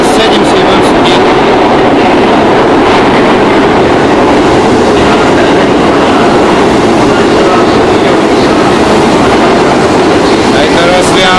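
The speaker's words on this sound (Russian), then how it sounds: "Там что-то гремит, а это значит, наш поезд едет." A train pulls into a station in Tokyo with a loud, dense rumble and rattling of wheels and carriages that fills the whole stretch, close by and continuous.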